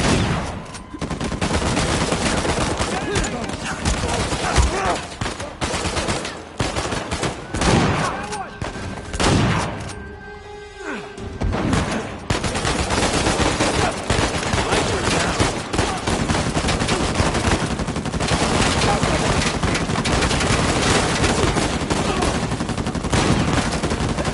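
In the video game Uncharted 4 a turret opens fire, loud sustained bursts of rapid gunfire hammering close by, breaking off briefly in the middle before resuming and pounding on to the end, with voices calling out beneath.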